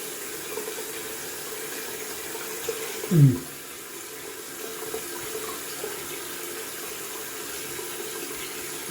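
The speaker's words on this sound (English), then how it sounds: "Gonna splash some cold water to the face." A brief burst of splashing as cold water is splashed onto a face at a sink, set against a steady background hiss of running water.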